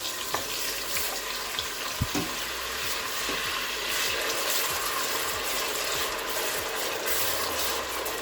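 Onions frying in hot oil for an efo riro vegetable stew, a steady close sizzle with scattered clicks and occasional scraping or stirring taps, no talking.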